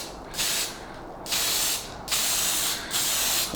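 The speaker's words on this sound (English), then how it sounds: "I only want to do a light spray over this, just to give it a rust colour." Four short bursts of aerosol spray paint misted lightly onto O gauge model railway track to give it a rust colour, each hiss lasting about half a second with brief pauses between, close and steady.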